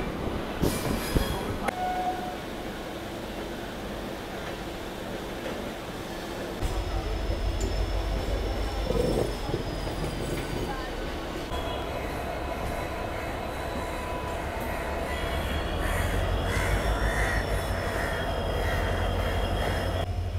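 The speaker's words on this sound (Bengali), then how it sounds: "এই পাশ থেকে ঢুকছে ক্রিয়া ইয়োগা এক্সপ্রেস, হাটিয়া থেকে হাওড়া।" The Kriya Yoga Express from Hatia pulls into Howrah station. A deep rumble builds as the train rolls in, with rail clatter, high wheel squeals and distant station noise, and no speech over twenty seconds.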